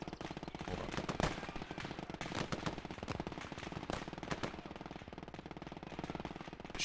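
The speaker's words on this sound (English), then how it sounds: "Shoot, what kind of gun is that?" Rapid machine-gun bursts and scattered rifle shots from a World War II battle in the game Gates of Hell: Ostfront, dense and continuous with sharp cracks throughout, no talking.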